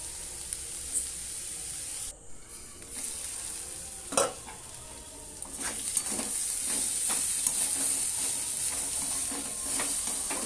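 Bottle gourd and egg fry in a pan, a steady sizzle with bursts of spatter as the mix is stirred, close and fairly loud with no voices.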